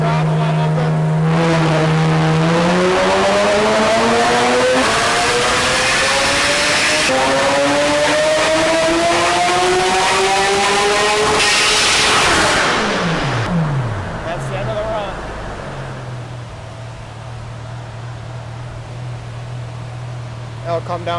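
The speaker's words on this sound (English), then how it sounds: "Open throttle, wide open." A Porsche 911 GT3 of the 997 generation revs at wide open throttle on a dyno, its engine note climbing steadily in a loud, continuous sweep before dropping back to a steady idle-like drone.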